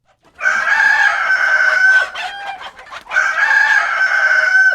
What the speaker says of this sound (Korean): 닭들은 크게 울어 인간들을 깨우기 시작했어요.